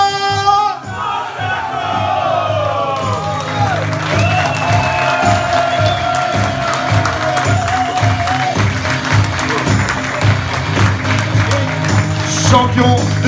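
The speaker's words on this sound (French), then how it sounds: "je vous demande un tonnerre d'applaudissements pour Vincent!" An audience gives a rugby player a thunderous welcome at an evening event, sustained loud applause and cheering with whoops, close and dense throughout after a brief opening call.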